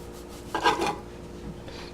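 A regular kitchen knife slicing through a ball of pizza dough, a single short scraping cut against the board, close and clear, followed by a faint softer rub.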